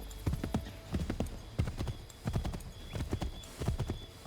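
Horse hooves clip-clop at a steady gallop in a video game, with rhythmic clusters of hoofbeats repeating close and loud for several seconds, with no voices over them.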